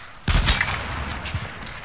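Sniper rifle gunfire in the battle royale game H1Z1: one loud, sharp shot cracks out early and leaves a rumbling echo and game noise behind it, with a fainter thud later in the clip.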